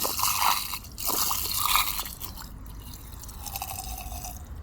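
Washing machine drain pump running outside with water swirling and flowing through it, a busy dripping, gurgling wash of sound at steady level, close up, with no talking.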